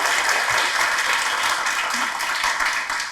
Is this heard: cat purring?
no